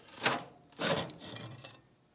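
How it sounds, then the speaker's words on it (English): A metal wing root fitting worked off the main spar of a 1941 Piper J5A wing: two short scraping, rubbing pulls followed by a fainter drawn-out rasp, close and quiet, with no talking. "Let's see if I can pull this fitting off."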